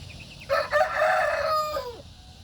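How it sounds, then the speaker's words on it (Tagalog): A rooster crows once, a clear drawn-out call rising and then falling away, fairly close over a quiet outdoor backdrop. "may manok kagatinog."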